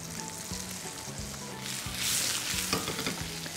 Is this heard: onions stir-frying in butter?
yes